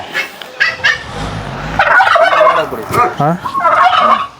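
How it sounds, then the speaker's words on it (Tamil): Loud, close turkey gobbling, several rapid rattling calls in a row, with other fowl clucking and honking around it. "இதில் பாருங்கள் வான்கோழி நிற்கிது"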